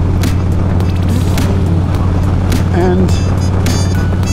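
A motorcycle engine drones steadily while riding on a road to the post office, mixed with wind rush and passing traffic noise, with someone speaking over it.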